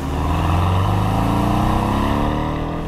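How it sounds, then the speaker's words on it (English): A 2017 Porsche 718 Boxster or Cayman flat-four engine revving hard toward the upper RPM range, a loud, raucous, rising shriek heard close and continuous with no talk. "as you approach the upper RPM range, the flat 4's deep bass baritone steps aside to produce this gloriously raucous shriek"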